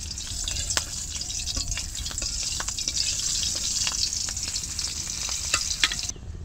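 A whole green chili sizzles in hot oil left from frying eggplant, giving a steady, loud frying hiss broken by sharp crackles and pops throughout.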